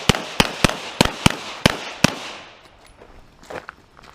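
A 1917 Mauser C96 Broomhandle pistol in 7.63x25 fires seven sharp, loud shots at a steady, quick pace outdoors at a range, followed by faint rustling and light footsteps.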